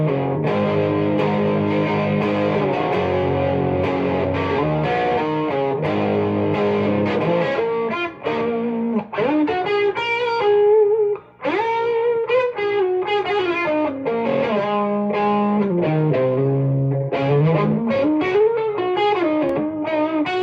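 Electric guitar played through a Music Man 112 Sixty-Five amp with the gain turned up, giving a thick, distorted tone with sustained chords and then bending lead lines, loud and continuous, without speech.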